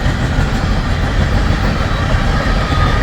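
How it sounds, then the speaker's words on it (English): A westbound empty coal train rolls past at Pacific Junction, Iowa, a loud, close, continuous rumble of wheels and wagons with no break. "Westbound empty coal drag."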